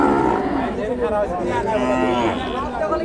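Heifers, Sahiwal and local breeds, at a busy cattle market, lowing loudly and repeatedly close by while a crowd chatters in the background.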